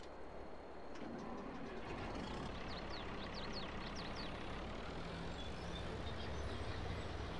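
A truck hauling a low loader trailer in Farming Simulator 22 gives off a steady, low engine drone throughout. It is faint and continuous, with a few light high chirps over it.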